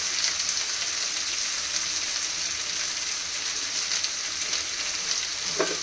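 Food fries in a little oil during home cooking of a simple chicken curry, giving a soft, steady sizzle that stays fairly quiet throughout, with a brief clink near the end.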